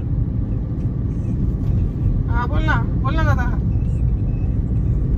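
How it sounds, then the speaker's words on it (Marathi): A car drives along a road, its engine and tyres making a low, continuous rumble inside the cabin while a voice speaks briefly over it. "सिद्धू गाडी चालवतोय"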